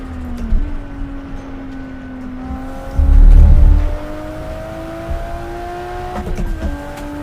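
A Nissan Nismo R33 GT-R racing engine in the Assetto Corsa video game drones at steady revs with shifting pitch, a loud low rumble swelling briefly midway, close and continuous.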